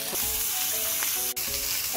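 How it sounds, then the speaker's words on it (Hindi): Paneer tikka skewers sizzle in about two tablespoons of oil on a hot tawa over high flame, a loud, continuous, close frying hiss with a brief dip near the end and a faint tonal hum beneath. "इसको हम थोड़ा सा और गर्म तेज आंच पे तवे को गर्म करके पकाएंगे"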